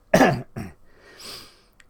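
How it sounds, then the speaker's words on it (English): Two sharp, close coughs in quick succession, followed by a softer breathy exhale. "Excuse me, I'm going to cough."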